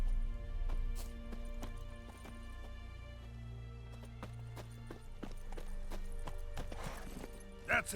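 Roach, the horse in the Witcher 3 video game, gallops with a steady rhythmic clip-clop of hooves over a low rumbling game soundscape, moderately loud, ending in a short snort or whinny.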